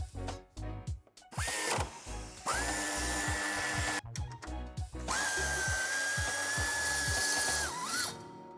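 A power drill bores a hole in a steel hitch bracket removed from a 2018–2024 Dacia Duster II, in two long sustained whining runs after short bursts and handling clatter, close and loud, no talk.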